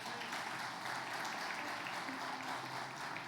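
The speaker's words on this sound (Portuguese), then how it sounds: "Aplauda Jesus por essa família." A church congregation claps together in a continuous, fairly faint wash of applause that holds steady throughout.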